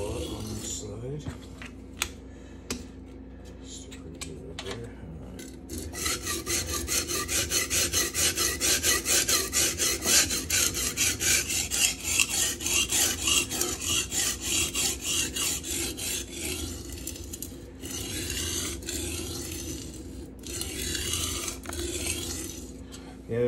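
S35VN steel knife blade being sharpened on an Atoma 140 diamond plate, close, rapid rhythmic gritty rasping strokes in a sustained run, preceded and followed by scattered short scrapes and taps.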